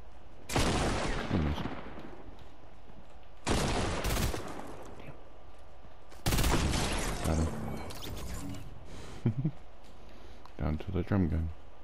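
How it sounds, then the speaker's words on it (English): Bursts of rapid automatic gunfire from a drum gun in Fortnite, a Nuketown gun game map, come in three or four loud clusters with short gaps, and a voice talks faintly underneath. "Drum gun."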